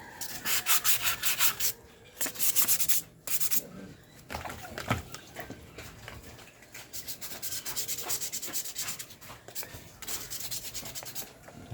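Rapid, gritty scraping of sandpaper rubbed back and forth against rusty metal, close and continuous in energetic strokes, with brief pauses between bursts.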